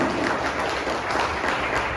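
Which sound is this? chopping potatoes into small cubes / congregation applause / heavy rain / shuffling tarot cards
congregation applause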